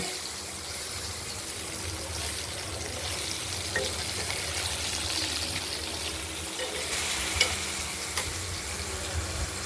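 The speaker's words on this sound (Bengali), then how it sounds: "আলুগুলোকে হালকা ভেজে নেব" Potatoes fry lightly in oil seasoned with black cumin, giving a steady soft sizzle with occasional stirring clicks and scrapes, close and continuous with no voices.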